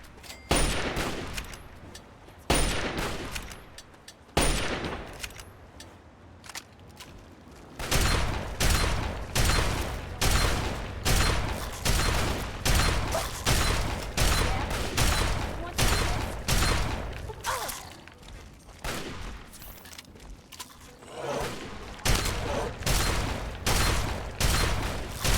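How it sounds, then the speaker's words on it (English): Rapid gunfire rings out in the video game Fallout 3, starting with scattered shots, then settling into a long run of steady, evenly spaced loud bursts with sharp cracks. "Opening fire."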